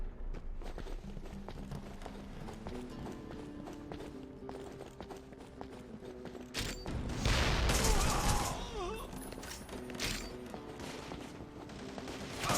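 Gunfire rattles in bursts during a cover-based shootout in the video game Devil's Third, set against the game's music and effects and growing heavier midway.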